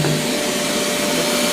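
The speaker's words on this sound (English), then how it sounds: "Do you reckon we can vacuum it?" Vacuum cleaner running in a flooded house with MDF fittings, a loud, continuous steady roar with a constant whine throughout.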